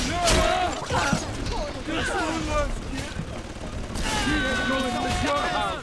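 Gunfire in the video game BioShock 2, a run of sharp shots and bursts mixed with game sound effects and crashes, with someone talking over it throughout.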